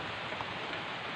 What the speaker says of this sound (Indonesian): ada hujan deh hujan